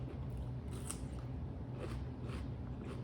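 Crunchy bites into a grilled taco, crisp outside and tender inside, eaten up close: a few sharp crackling crunches over a steady low background, with no talking.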